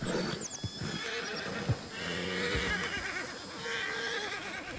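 Horses in Red Dead Redemption 2 neigh and whinny while hooves clip-clop at a moderate distance. The sounds are soft and run under a low game ambience with no talk.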